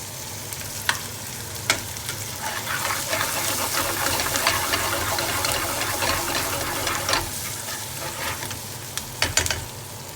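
Onions frying in a pan for chicken tikka chilli, a steady close sizzle with occasional stirring clinks and scrapes, with no talk.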